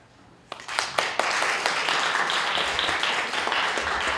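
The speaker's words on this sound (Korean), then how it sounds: "우리 앞에 계신 분들은 박수로서 답을 해주시면 감사하겠습니다" An audience at a Methodist theological seminary graduation ceremony in a church breaks into applause after a quiet start, with a few scattered claps building quickly into sustained, dense clapping that holds steady to the end.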